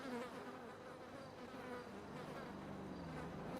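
Bees buzzing around a hive in a roleplay video game: a steady, continuous droning hum, fairly close and unbroken, with no talk over it.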